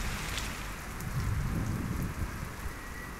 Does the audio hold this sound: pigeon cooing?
no